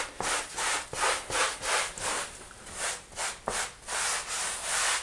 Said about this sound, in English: So you can probably kind of hear the little sandy particles on there as I'm scrubbing.